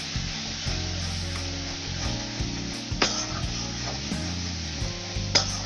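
Bay leaves, cardamom, cinnamon and cloves sizzle in hot oil with a little salt, a steady close hiss broken by a few sharp crackles and soft stirring scrapes.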